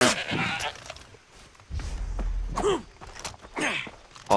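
A goat in the video game Far Cry 3 bleats several times in wavering, nasal cries spaced a second or so apart, close and clear, with breathy rustles and a low rumble between calls.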